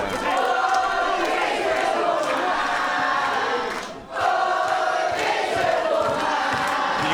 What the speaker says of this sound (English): You can hear the relief in the crowd here.